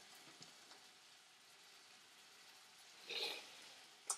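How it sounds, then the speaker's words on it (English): Bacon crisps in a hot pan with a soft, steady sizzle and faint popping, quiet and close, ending with a brief louder crackle. "we're going to roll this thing around and just crisp up all the bacon all over both of these"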